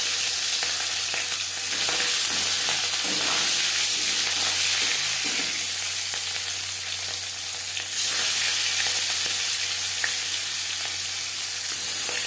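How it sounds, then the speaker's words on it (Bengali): Panch phoron, a five-spice tempering, fries in oil left over from frying katla fish, giving a steady, close, unbroken sizzling hiss for the whole stretch with no voices. "মাছ ভেজে নেওয়া তেলে ফোড়নে দিয়ে দিলাম 5 ফোড়ন।"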